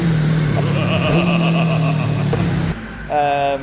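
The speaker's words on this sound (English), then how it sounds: "apologies for the revving" A car engine hums and revs steadily for a few seconds, droning close and loud, then cuts off before a brief higher whine returns.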